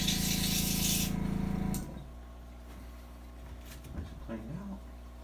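Airbrush sprays pearl white paint onto a crankbait lure as a loud, steady broadband hiss for almost two seconds, then cuts off, leaving a quiet room with faint clicks and small handling sounds.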